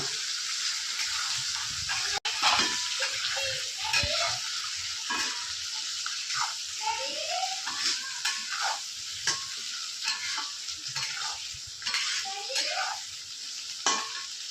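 Potatoes are stirred in a frying pan over a steady sizzle, a spatula scraping and knocking the pan in repeated irregular strokes, close and fairly soft, with no talk.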